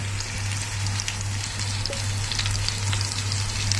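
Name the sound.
tilapia fish frying in hot oil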